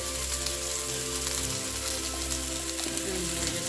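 Red curry paste fries in a pan for a Thai curry Dungeness crab dish, producing a continuous, even sizzle and crackle heard up close without talk.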